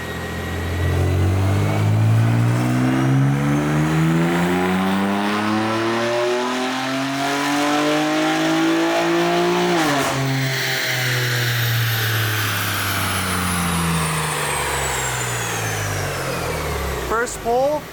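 A BMW G87 M2 engine on a dyno during a stock pull, revving loudly and climbing steadily through the gears with a brief dip at a shift, then easing off near the end.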